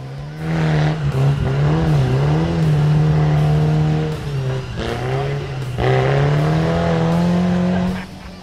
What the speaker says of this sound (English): Lay into the throttle and don't even think about letting up until you make it to the top.